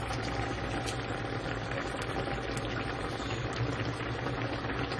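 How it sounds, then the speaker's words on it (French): A sauce simmers and bubbles steadily in a pot as a crushed stock cube is stirred in, a continuous close, dense bubbling with no talk. "on va écraser le cube et on va venir le mettre dans la sauce"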